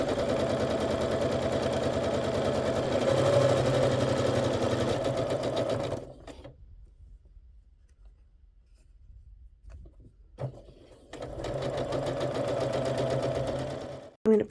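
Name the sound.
sewing machine stitching a nested quilt seam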